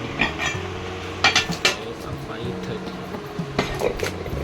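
Newly bought metal kadai woks, a small one and a larger one, handled close by, giving several sharp clinks and knocks at uneven intervals over a low background hum.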